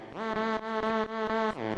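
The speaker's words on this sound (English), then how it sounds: "it's like a bass lead" A buzzing synth bass lead plays rich harmonic notes in short rhythmic bursts, with brief dips between phrases and a gliding pitch change near the end.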